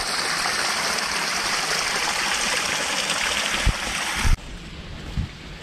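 A small stream at a lake house flows toward a large waterfall, a steady broadband rush heard close by, with a couple of dull bumps and a sudden drop in level near the end.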